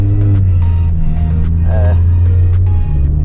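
A Mercedes GT sports car engine at a loud steady drone inside the cabin, with a dip in pitch near the end, as voices talk over it in short bursts.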